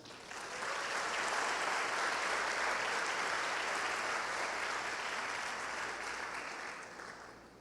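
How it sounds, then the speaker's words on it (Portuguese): A church congregation applauds during a service, a dense, sustained wash of clapping that swells quickly, holds steady and loud for several seconds, then eases slightly toward the end. "Pensei que você aplaude Jesus."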